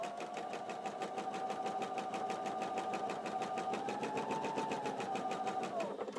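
Home sewing machine chain piecing quilt fabric pieces, a fast steady mechanical needle chatter running continuously at close range and moderate volume, with no talking.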